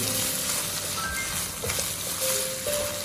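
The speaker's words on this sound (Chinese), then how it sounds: "我们再把香菇加进来，继续翻炒均匀，把香菇的水分也炒干" Mushrooms being stir-fried in zhajiang sauce, a steady sizzle with occasional spatula scrapes and taps against the wok, close and fairly quiet, no voices.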